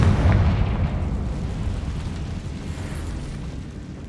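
The Confringo fire spell explodes in Hogwarts Legacy with a deep, rumbling boom that is loudest at the start and then rolls off into a long, fading roar.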